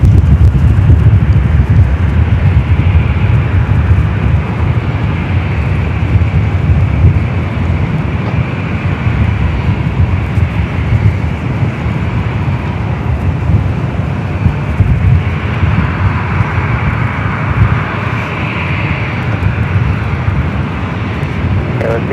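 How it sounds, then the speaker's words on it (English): A UPS Boeing 767 cargo plane arriving from Seattle at Los Angeles airport, a steady, loud broadband roar with wind rumble that holds for the whole stretch without a break. "I think this is the UPS coming in from Seattle"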